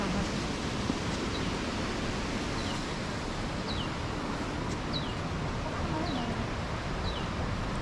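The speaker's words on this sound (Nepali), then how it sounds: "पानी कहाँबाट झरेर आवाज त आएछ" Water falls and rushes steadily in the Seti river gorge near a tunnel in Pokhara, a close, constant roar with a few faint bird chirps riding above it.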